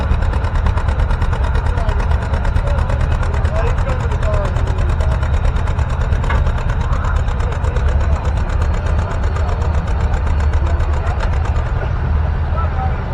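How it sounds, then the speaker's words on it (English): A 1956 John Deere 70 diesel tractor labors steadily while pulling a sled at an outdoor tractor pull, its engine a continuous low throb heard close and loud under crowd and announcer chatter. "This is his 1956 John Deere D. It's a John Deere 70 diesel."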